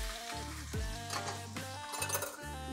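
Garlic and shallots fry in a wok for a Thai roasted chili paste. The oil gives a steady sizzle while a utensil stirs and scrapes through the pan with a few metallic clinks, and tonal hum runs underneath.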